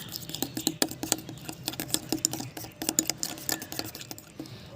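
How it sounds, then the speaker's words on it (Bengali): Turmeric is being stirred into shampoo in a small bowl, producing quick, close, irregular clicking and scraping taps of a spoon against the bowl, fairly faint and without any voices. "দিয়ে ভালো করে শ্যাম্পুর সাথে দেখো মিশিয়ে নিচ্ছি"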